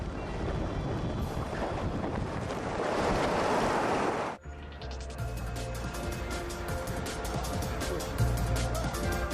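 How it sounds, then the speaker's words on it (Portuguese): Typhoon wind and heavy seas roar in a dense rushing surge for about four seconds, swelling loud, then cut abruptly to a different scene of rhythmic clanking and mechanical hum at a sea bridge construction site. "os tufões."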